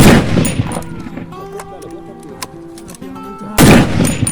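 A PTRS-41 anti-tank rifle firing 14.5x114mm rounds outdoors, with a loud, booming shot at the start and another near the end and a ringing, reverberant tail between them.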